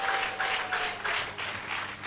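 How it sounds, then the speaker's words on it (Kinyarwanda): A church congregation claps together in praise, a steady run of roughly rhythmic bursts of hand clapping close by, with no talk over it. "Let's clap for the Lord."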